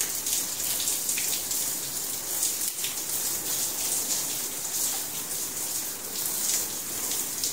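Water poured back and forth over a swiftlet-house fin board as it is washed with Sunlight soap, heard as a steady, close, continuous splashing wash with no talking.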